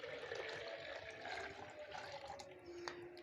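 Strained tamarind and dried plum water being poured back into a cooking pot for sharbat, a steady splashing liquid stream that runs throughout at moderate level with no talk.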